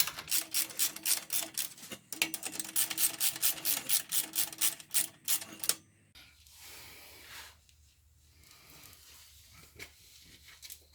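A hand ratchet rapidly clicks while tightening bolts on a Mustang GT H-pipe exhaust, in quick close bursts of sharp clicks with a brief break, then quieter rustling and scraping.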